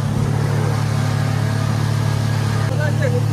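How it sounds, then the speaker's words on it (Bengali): A motor boat engine runs steadily on a river through mangrove forest, a loud constant drone with a low rumble, while people talk over it. "বসলাম, বোট চলছে"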